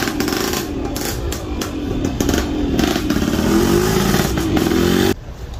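A Volkswagen Fox 1.4 engine idling with the hood open at an outdoor used-car fair, a steady close mechanical hum with light ticking, cutting off abruptly near the end.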